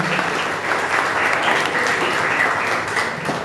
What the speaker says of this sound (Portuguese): Aplauda mais uma vez